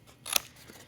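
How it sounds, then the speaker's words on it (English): A single quick snip of scissors trimming a paper edge for an origami book, a crisp close cut that sounds clearly against a quiet background. "I'm going to go ahead and cut that little edge off there."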